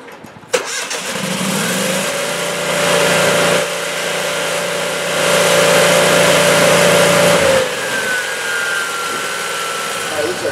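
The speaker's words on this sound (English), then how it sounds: "Then I'm going to fire this generator up" A welding generator engine cranks and catches after a sharp start, then runs at a steady loud drone with shifts in pitch and load, continuing to idle toward the end.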